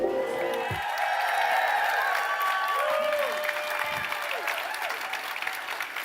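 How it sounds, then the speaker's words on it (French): Audience applause at the closing-night event of a French festival, a sustained dense clapping with some cheering and voices mixed in, loud and steady throughout with people talking over it. "Merci de les applaudir."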